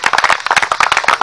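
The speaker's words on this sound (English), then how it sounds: "can we give him a round of applause?" Applause at a cricket league conference for the final game, a short burst of rhythmic hand claps from a small audience, loud and close, with no voices over it.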